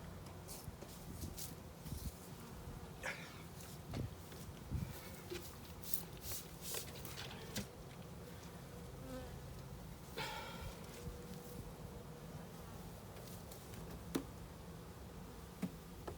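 Honeybees buzzing steadily in front of a hive as frames go back in, a dense swarm hum with individual bees zipping close past now and then, plus light taps and handling noises.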